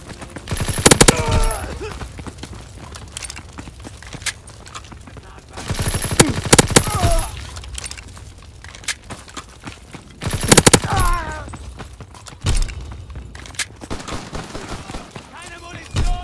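Rapid gunfire bursts erupt repeatedly in Call of Duty: WWII, loud volleys of automatic weapons spaced a few seconds apart amid battle noise and voiced game commands.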